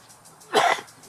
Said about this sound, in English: I coughed, and where did I cough? I coughed in my elbow.